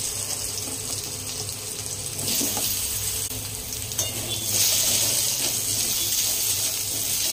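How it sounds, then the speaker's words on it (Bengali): Potato pieces fry in oil left over from frying a fish head, giving a steady, close sizzle that rises in loudness partway through, with no talk. "এবার ওই তেলেই আমি এই যে টুকরো করে রাখা আলুগুলো ভেজে নেব"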